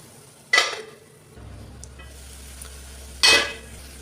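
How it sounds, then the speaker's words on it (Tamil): Broad beans (avarakkai) stirred in a pan for a poriyal, heard as two short scraping swishes of a spoon over a low steady hum, close and clear with no talking. "இப்போ நல்லா கலந்து விட்டுட்டு நம்ம ஒரு மூடி போட்டு மூடி வச்சிடலாம்"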